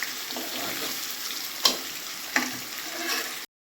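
Potato pieces frying in hot oil in a pan give a steady close sizzle, with two sharp scraping stirs of a spatula midway and no talk.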